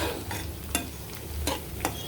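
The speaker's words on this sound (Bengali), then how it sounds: "এবার জিরাটা একটু ভেজে নিব বেশি ভাজা যাবে না" Whole cumin seeds crackle in hot oil in a pan under a steady close sizzle, with three or four quick spatula scrapes as they are stirred, and no voices.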